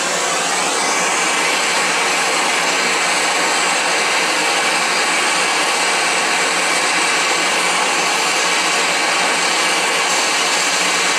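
A heat gun blows hot air onto a Loctite-locked screw on a glass crusher, a loud, steady, close-up whoosh. It holds unbroken throughout with no speech.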